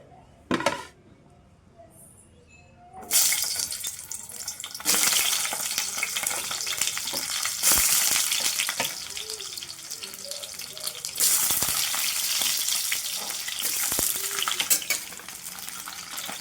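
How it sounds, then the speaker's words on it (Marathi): Eggplant pieces dropped into hot oil in a pan, with sudden loud bursts of sizzling that settle into steady close frying hiss, punctuated by clatters as pieces are added and moved. "आता गरम झालं आहे ह्यामध्ये आपण ही वांगी टाकून घेऊया"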